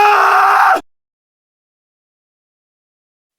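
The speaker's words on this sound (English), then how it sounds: "I am screaming." A person screams a loud, strained vocal cry for under a second, then breaks off abruptly into silence before another voice briefly returns at the end.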